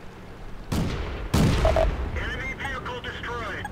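Heavy artillery-style booms in the World of Tanks video game, two loud broadband blasts about half a second apart, each decaying into rumble, followed by softer whistling and tonal in-game effects.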